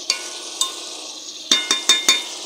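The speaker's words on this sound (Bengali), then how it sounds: "আমি আরেকটু কষিয়ে নেব।" Vegetables with dried shrimp being stir-fried in a pan: a continuous close sizzle with sharp spatula scrapes, two spaced apart and then four in quick succession, with no voices.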